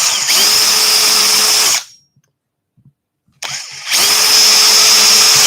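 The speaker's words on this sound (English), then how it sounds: "So trying to keep the drill nice and upright at our kind of 90 degrees." A power drill bores into a glued wooden workshop sign in two loud bursts of steady whine, separated by a short silent pause while the bit is lifted.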